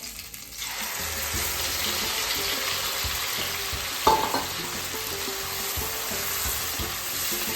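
Masala shrimp sizzling steadily in a hot pan as spices are added, a loud continuous frying hiss with a brief clink of utensil midway and light stirring underneath.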